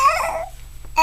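A baby makes short babbling vocal noises, loud and close, then goes quiet before a brief burst at the end.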